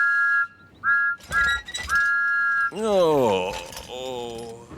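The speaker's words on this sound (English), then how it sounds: "Thomas was so excited, he blew his whistle louder than ever." Thomas the Tank Engine's steam whistle sounds in a loud series of sustained tonal blasts, first short toots and then a long held note, followed by a gliding voice-like wail near the end.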